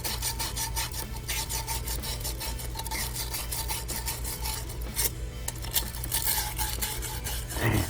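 Sand cloth scrubbing a 1/2-inch copper pipe during a pinhole leak repair inside a wall, a steady close rasping rub that repeats in fast strokes throughout, with no talk.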